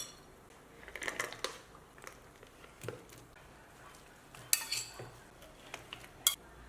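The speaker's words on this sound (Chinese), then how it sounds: "再放入金针菇和蘑菇。" Enoki and other mushrooms go into a pot of boiling water while prepping ingredients for a homemade spicy mala stir-fry pot: scattered light clinks and scrapes of utensils on the pot, a few sharp metallic taps, over a faint steady hiss.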